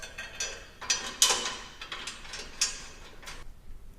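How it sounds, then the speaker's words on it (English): A ratchet wrench with a 17mm socket tightens skid plate bolts on a Toyota Tacoma during a coilover install, giving off quick bursts of clicking that start and stop, fairly close and quiet. "Tighten these all down with a 17mm socket."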